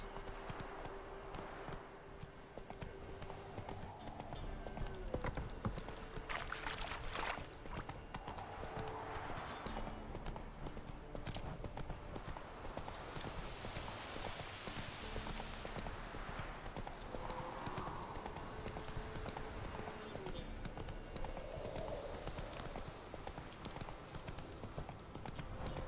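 Roach, a horse in the video game The Witcher 3, gallops in a steady, unbroken clip-clop of hooves that runs throughout, with faint game ambience and a brief whinny-like tone in the mix.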